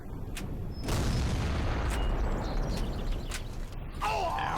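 Gunfire in the History Channel Civil War game: a steady barrage of rifle shots and booming blasts, sharp reports breaking through a dense rumbling battle din, with brief voice sounds near the end.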